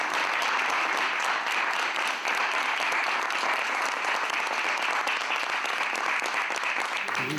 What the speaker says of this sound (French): Il le fait applaudir par ses collaborateurs.